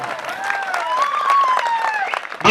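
At a Lohjhar dance competition show, the crowd applauds in a loud, continuous burst, with high whistles and cheering voices rising over the clapping.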